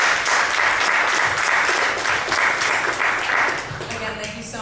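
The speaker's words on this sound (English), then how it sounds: "Could we get a round of applause for this awesome panel?" Sustained audience applause for a panel at a conference session, a dense, even wash of many hands clapping that carries on strongly before easing slightly toward the end, with a voice speaking briefly over it.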